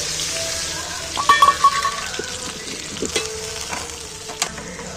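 Water used to rinse spices is poured into a hot pan of chicken with coriander leaves, setting off a burst of sizzling and bubbling that settles into steady frying hiss, with a few clinks nearby.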